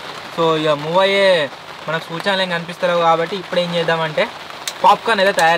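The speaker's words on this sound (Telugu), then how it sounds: "కంటిన్యూస్గా వర్షం పడుతూనే ఉంది" Continuous rain falling around campers on a tractor, a steady soft hiss beneath someone talking throughout.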